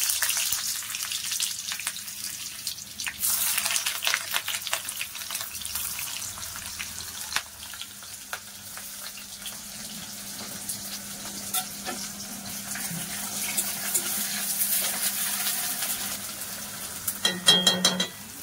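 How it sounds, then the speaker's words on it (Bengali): Chopped onions fry in hot mustard oil in a home kitchen pan and are stirred, with a continuous close sizzle broken by scraping stir strokes and no talking. "পেঁয়াজটা একটু নেড়ে চেড়ে"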